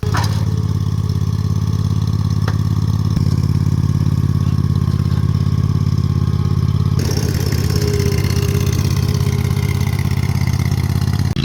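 An old lawn mower engine runs loud and close, a steady low chugging drone with a rattling clatter that holds throughout and shifts slightly in tone partway.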